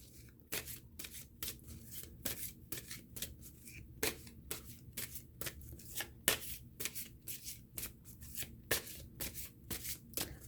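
Tarot cards being shuffled for a love reading, a steady run of crisp riffling slaps at close range, repeated in quick rhythm with no talk over it.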